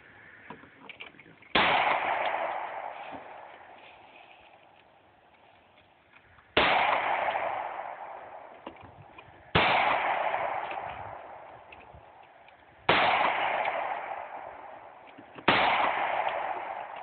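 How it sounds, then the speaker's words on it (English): Five loud, sharp 9mm handgun shots at a shooting range, spaced a few seconds apart, each followed by a long, reverberant decay. "This is a 9mm. Go ahead. Don't jerk. Squeeze the trigger."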